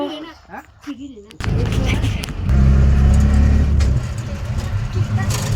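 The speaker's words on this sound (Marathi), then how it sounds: "आमची रिक्षा बघा किती सुसाट चालले" A voice speaks briefly, then a loud auto rickshaw engine roars in close with rushing road and wind noise as it drives at speed.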